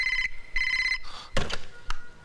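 A telephone rings twice in short electronic bursts, then thuds and clatters follow, as if the receiver is picked up.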